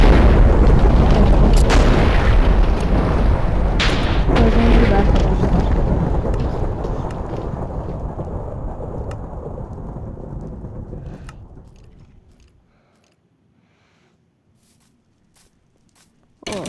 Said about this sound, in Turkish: Bu yıldırım çarptı.